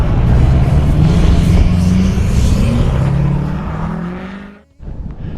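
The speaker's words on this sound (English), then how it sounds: "I think some of the cars are starting to leave." Cars leaving a car show pass close and loud one after another, engines revving and rising in pitch before the sound drops away abruptly near the end.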